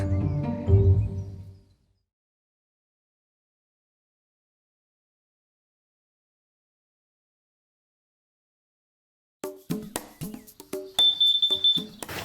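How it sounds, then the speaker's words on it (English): A carbon monoxide alarm sounds during a test inside a shepherd's hut in East Sussex, giving a sharp, steady high-pitched electronic tone near the end after a long silence, with bursts of broadband clatter around it. "We do have to test the carbon monoxide alarms."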